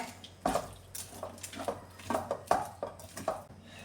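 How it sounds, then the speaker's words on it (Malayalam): A metal spoon mixes jackfruit seed thoran in a pan, giving a string of sharp clinks and scrapes against the pan in an uneven rhythm, close up and fairly loud, with no talking. "നന്നായിട്ടൊന്ന് മിക്സ് ചെയ്ത് കൊടുക്കാമേ."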